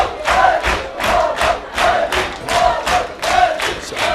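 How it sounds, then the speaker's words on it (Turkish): A TV studio audience claps and cheers in a rhythmic, pulsing pattern, loud and close, with bursts of crowd voices rising on each beat. "Bir daha alkışlıyoruz."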